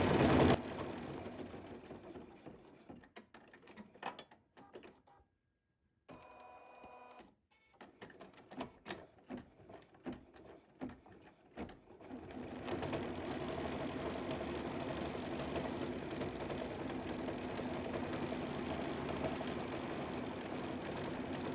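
An embroidery sewing machine sews a basting stitch through the three layers of a hedgehog quilt block, first in scattered short ticking pulses around a brief pause, then in a steady continuous stitching hum, with no one speaking.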